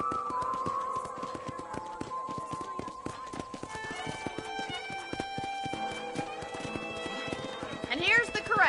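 Horse hooves clip-clopping at a steady walking pace at a ranch corral in the Red Dead Redemption video game, with an occasional whinny and voices talking over the hoofbeats throughout.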